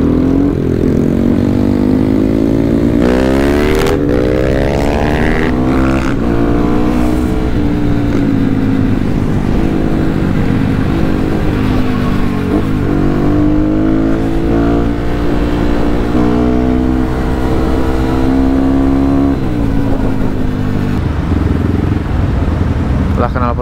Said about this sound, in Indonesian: Kita roasting motornya anjir.